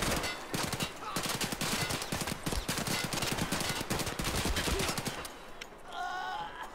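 Gunfire in Escape From Tarkov, a dense, rapid stream of automatic shots crackling for several seconds before tapering off, followed by a brief vocal sound.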